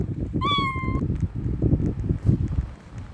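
A single short, high cat meow from a Roblox kitten game rings out clearly near the start, then low rustling and muffled thumps continue.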